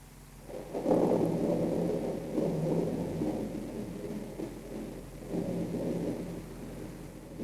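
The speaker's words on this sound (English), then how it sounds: "I lay in bed that night listening to the thunderstorm" Thunderstorm with rain at night, deep rolling rumbles of thunder swelling and fading in several waves over a soft steady wash of rainfall, no voices.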